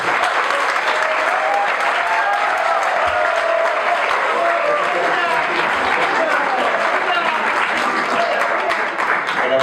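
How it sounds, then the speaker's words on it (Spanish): A conference audience at UPGOP applauds to welcome a speaker to the stage, with loud, dense clapping that holds steady from start to finish. "Por favor, démosle un fuerte aplauso y una calurosa bienvenida a George Robles."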